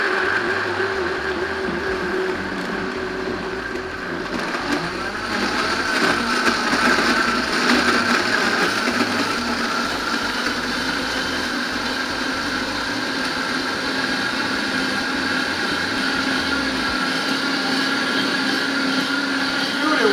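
A Vitamix blender runs steadily for the whole stretch while blending an anabolic ice cream mix, a loud, continuous motor roar churning through the thick ice-laden mixture with no letup.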